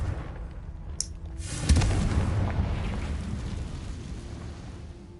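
In Hogwarts Legacy, the Confringo fire spell goes off with a sharp crack, then a loud, close, booming explosion whose rumble slowly decays over several seconds.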